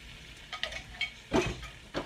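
Beef stroganoff ingredients are stirred in a pan over low heat, making a soft sizzle with a few short scraping bursts from the stirring, roughly one every half second.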